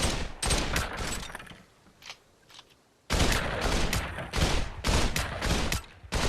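Rapid automatic gunfire from a weapon in the video game Population One, loud close bursts of shots with a brief lull of quieter rumble in between, no voices.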